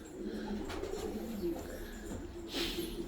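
Pigeons cooing in a loft, with soft low coos repeating close by over a light background hum of the loft.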